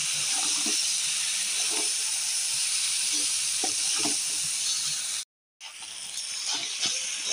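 Chopped Malabar spinach stems fry with spices in a pan, giving a loud, even hiss and sizzle up close that cuts out briefly near the end before resuming, with no speech.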